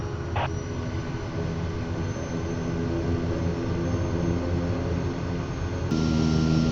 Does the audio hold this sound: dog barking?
no